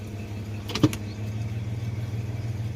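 A 1985 Chevy S10 with a swapped-in 3-speed automatic transmission gives a single short clunk as it shifts into gear over a steady low engine idle.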